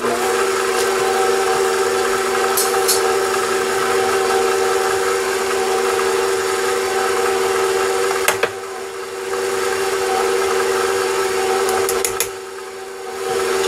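A stand mixer runs steadily on low speed, mixing flour into sugar cookie dough, a continuous motor hum with two brief dips near the end.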